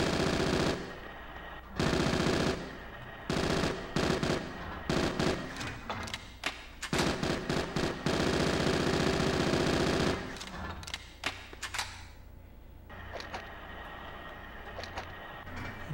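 Submachine gun firing at targets in Bad Boys: Miami Takedown, long loud bursts of rapid automatic fire broken by short pauses, close and dominant, fading to sparser shots and thuds near the end.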